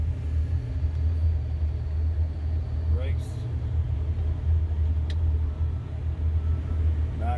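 An end dump truck idles and rolls forward with a heavy, continuous low engine rumble, then slows under braking with faint squeals and hisses as it pulls up straight on a work site.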